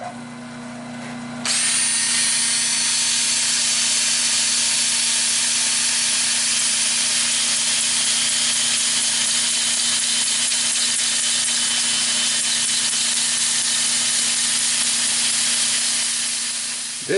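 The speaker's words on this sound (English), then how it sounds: "Time for sanding" A steady, loud abrasive hiss of sanding red cedar spinning on a lathe over a constant motor hum, starting abruptly and running without pause.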